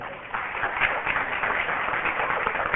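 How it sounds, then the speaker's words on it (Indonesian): Audience applause at a church sermon, a steady, muffled crackle of many hands clapping that fills the whole span at fairly close range, sounding slightly dull and band-limited. "Tepuk tangan saudara"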